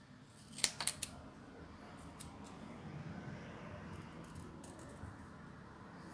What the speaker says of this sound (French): on peut découper directement celui-ci qu'on a tamponné